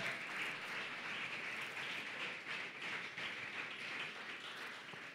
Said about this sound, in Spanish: Puede darle un aplauso al Rey de Reyes.